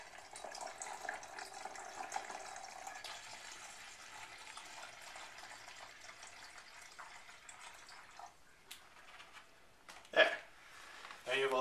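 Water pours through a funnel into a bottle for homemade ginger ale, a soft continuous trickle with a few sharper splashes and knocks near the end, with some talk over it.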